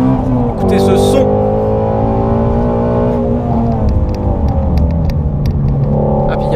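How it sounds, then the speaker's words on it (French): Ford Mustang Shelby GT350R V8 on a race circuit, loud and close, its engine note rising and falling through revs and gear changes under continuous talking in the car. "c'est ce moteur, ce V8."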